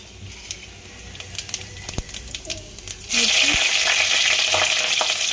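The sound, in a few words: cumin seeds sizzling in hot oil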